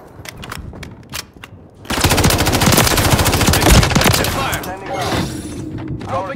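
Call of Duty: Modern Warfare III gunfire, a loud sustained rattle of automatic shots with booms, and game voice callouts heard before and between the bursts.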